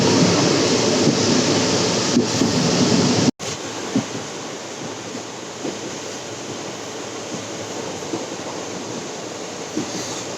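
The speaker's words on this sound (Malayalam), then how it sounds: "ട്രെയിൻ അല്പം ലേറ്റായിട്ടാണ് എത്തിയിരിക്കുന്നത്" Continuous rumbling roar of a train arriving at a station in Kanyakumari, with rattling wheels, loud and close, briefly cut off then resuming steadily.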